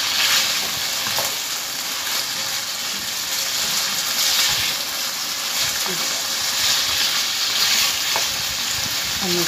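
Large-cut ingredients for a mirchi saalan paste fry in a pan with a steady, dense sizzle. A few stirring scrapes are heard, and the sound holds at moderate loudness throughout.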